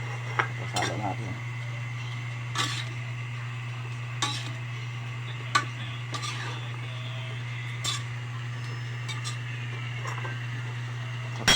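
A spoon clatters and scrapes in a pan as kangkong and fried tofu are stirred, with sparse metallic clinks spaced a few seconds apart over a steady low hum.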